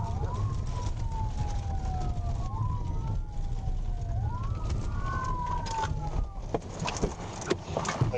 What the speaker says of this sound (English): Trooper Haley activated his lights and sirens, beginning a short pursuit down Cooper Road